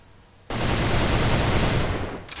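An ARX-160 assault rifle in the online shooter AVA fires one loud, sustained automatic burst lasting almost two seconds, starting abruptly after a quiet moment and stopping just as sharply.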